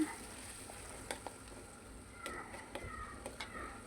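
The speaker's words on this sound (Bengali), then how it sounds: "মাছ ভাজি তেলের ভিতরে আমি আবার পেঁয়াজটা দিয়ে দিলাম" A soft, low sizzle of onions frying in oil left from frying hilsa fish, with a few scattered clinks and scrapes from stirring.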